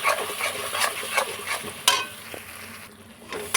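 Mustard and poppy seed paste fries in a kadai with a steady broadband sizzle, broken by repeated scraping stir strokes that stand out against the crackle, with no voices present.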